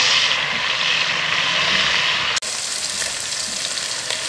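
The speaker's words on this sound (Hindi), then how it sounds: "2 मिनट के लिए फ्राई कर लेते हैं चिकन के साथ।" Chicken pieces with ginger garlic paste sizzle and fry in a pan, a loud, steady crackle with a brief dip midway as the food is stirred, close up and without talk.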